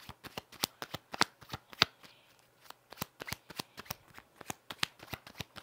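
Tarot cards being shuffled by hand, a quiet run of quick crisp riffles and taps in an irregular rhythm, close up, with no talking.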